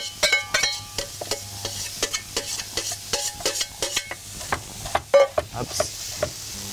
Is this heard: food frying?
yes